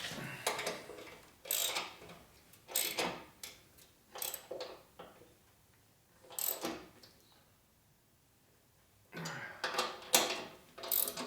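Ratchet tightening bolts during a fork and shock rebuild on a 2004 Harley FLHT Twin Cam touring motorcycle, heard as repeated short bursts of fast, close clicking separated by brief pauses.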